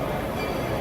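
A train rolls past at Magic Kingdom with a dense, steady rumble and rattle, close and continuous through the whole brief moment.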